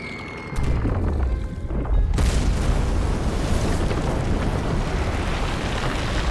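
A bomb explodes in the strategy game Civilization VII, with a deep boom followed by a second blast and a long, loud rumbling roar that lingers.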